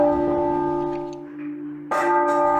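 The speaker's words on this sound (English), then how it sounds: "Across the country, church bells have been muffled." Church bells tolling with a muffled, damped tone in mourning for Queen Elizabeth II, sustained ringing hum that swells again with a fresh strike near the end, no voices.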